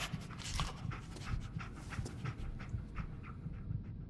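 A dog pants rapidly and steadily in Fallout 4 on PS4, a rhythmic close breathing that continues without pause.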